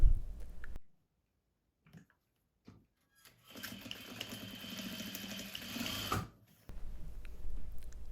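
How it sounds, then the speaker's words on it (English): A sewing machine stitches across the bottom of a cardigan placket to hem its corners. After a quiet pause it runs in one close, steady burst of about three seconds, then stops. "We do this by turning the placket on itself, right side to right side, and sewing across the bottom."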